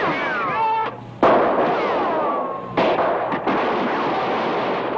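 Loud gunshots crack through a movie scene, with a couple of sharp, close bangs standing out against a dense, busy soundtrack of music and noise.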